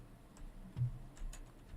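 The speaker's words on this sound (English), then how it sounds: "Stop ticking so fast." Quick, steady ticking from a clock in the video game Love, Sam, faint and close with an even rhythm, one slightly stronger tick near the middle.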